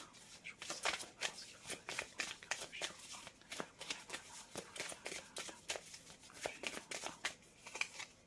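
Tarot cards are shuffled and drawn by hand, giving a quiet, close, irregular string of crisp flicks and riffles that continues throughout.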